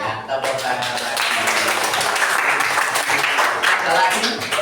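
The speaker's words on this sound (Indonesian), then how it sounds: "tepuk tangan lagi" Students in an Indonesian classroom break into loud, dense clapping that fills the room for several seconds, with a voice speaking briefly at the start and chatter mixed in.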